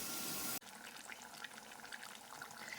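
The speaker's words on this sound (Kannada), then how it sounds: "ಈಗ ನೀರು ಹಾಕ್ಲಾರ್ದ ಇಷ್ಟ ಒಂದು ಸ್ವಲ್ಪ ಕುದಿಲಕ್ಕೆ ಬಿಡ್ತೀನಿ" Water is poured into a pot of boiling chicken sambar on the stove: a loud rush that cuts off sharply, then a quieter stretch of splashing and bubbling close up.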